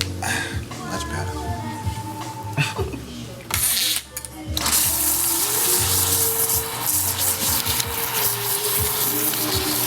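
Cold water gushing from a tap while soap is rinsed off, a steady broadband rush with brief dips and splashy changes, running continuously under scattered background noise.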